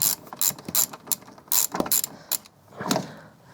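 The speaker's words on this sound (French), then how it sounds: "j'ai acheté une clé à tuyauter pour démonter les raccords" A wrench working car fittings on a GTI chassis gives sharp metallic ratcheting clicks in short irregular bursts, close and fairly loud with brief pauses between turns.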